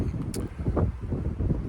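Wind gusts outdoors by a rapidly melting pond on frozen ground, a low, steady rumbling buffet with uneven swells, close and continuous.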